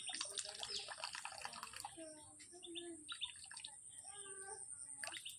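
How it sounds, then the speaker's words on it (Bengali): Water squeezed by hand out of fresh chhana cheese curds drips and trickles faintly and close by, with soft bird chirps in the background. "এইভাবে আমি ছানার জলটাকে নিগড়ে দিচ্ছি।"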